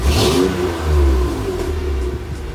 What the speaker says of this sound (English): if I rev it and let it settle back down, I want to watch the RPMs there